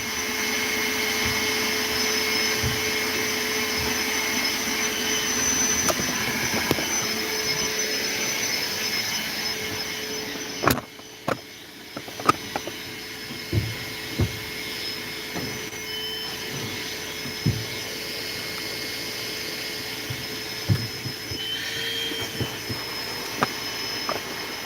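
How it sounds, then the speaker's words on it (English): A vacuum cleaner runs steadily inside a Ford Transit campervan, a continuous whine with intermittent knocks and bumps as the nozzle moves around the interior. "You guys want me to bring you down so you can see me vacuuming?"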